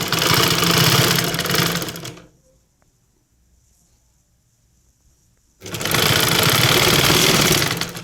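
A sewing machine stitches thread piping along the edge of a front-slit churidar top. Two loud, fast bursts of close-up mechanical clatter are separated by about three seconds of near silence.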